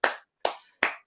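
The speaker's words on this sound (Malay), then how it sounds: "Tepuk tangan guys, tepuk tangan." Three sharp hand claps, evenly spaced about 0.4 seconds apart, close and clear with brief tails and no talk.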